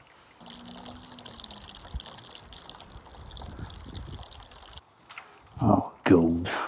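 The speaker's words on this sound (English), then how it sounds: "There's quite a bit of water coming off there, I suppose." Rainwater streams off a new shed workshop roof and overshoots the guttering, a steady trickling wash with louder splashing bursts near the end and a voice talking over it.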